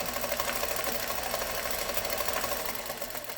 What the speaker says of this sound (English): And that's free motion stitching.